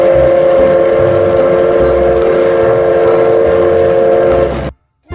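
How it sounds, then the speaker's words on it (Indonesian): A toy Thomas train whistles in a long, steady, high-pitched tone that holds for several seconds over a clattery running noise, loud and close, then cuts off abruptly into silence. "Wih, kereta Thomas"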